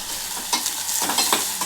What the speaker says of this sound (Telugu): ఇది ఉల్లిగడ్డ ఉంది ఇది కొంచెం మంచిగా ఫ్రై కావాలి